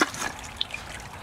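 Creek water trickling at Underwood Creek in Wauwatosa near Highway 100, a faint, close burble with a few small drip-like plinks over quiet background noise.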